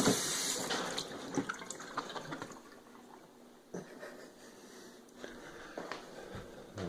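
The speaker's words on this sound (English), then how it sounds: "rinse off your bottle a little bit" Tap water runs steadily over a plastic gallon laundry-soap bottle being rinsed at a sink, a continuous close splashing hiss with a few sharper knocks and swishes as the bottle is turned under the stream.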